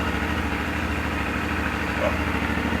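A new Kerby Moto 450 NK motorcycle engine idles steadily and close by, a constant low rumble with even pulsing throughout.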